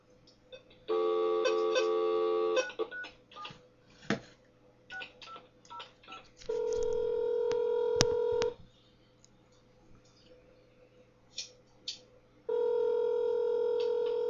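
Telephone touch-tone dialing for a call to a church: steady dial tones alternate with bursts of short keypad beeps, loud and close, with no voices.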